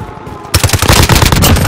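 Loud, sustained automatic gunfire in the Call of Duty Modern Warfare video game erupts suddenly and keeps hammering in a rapid, dense stream of shots to the end.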